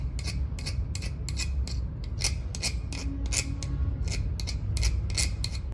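Serrated pliers jaws scrub a dirty welding nozzle in quick rhythmic rasping strokes, close and steady, about two or three scrapes per second.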